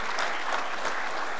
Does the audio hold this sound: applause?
yes